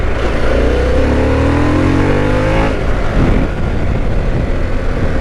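A 1250cc Harley-Davidson motorcycle in sport mode revs hard, its engine pitch climbing steadily through a gear before a shift, loud and close under heavy wind rush.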